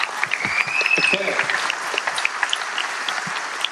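Applause from a crowd at a battle of the bands, a steady wash of clapping with a few whistles or cheers rising over it, fairly close.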